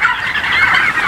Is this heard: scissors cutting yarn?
no